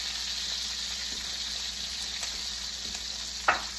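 A steak sizzling in a frying pan, a steady bright hiss of fat crackling close by throughout, with a short louder pop or scrape near the end.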